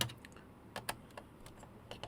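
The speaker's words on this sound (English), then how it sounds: "it has actually a Mitsumi keyboard" Brief bursts of keystrokes on a Mitsumi keyboard attached to a Cinet 286 Bat PC, with a handful of quick, irregular clicks spread over a couple of seconds, fairly quiet and close, no talking.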